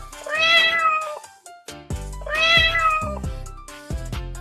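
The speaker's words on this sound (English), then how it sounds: "This little cutie chases mice in the barn and says meow." A cat meows twice in a farm setting, each call drawn out and clear, close and loud, with short pauses between and no talking.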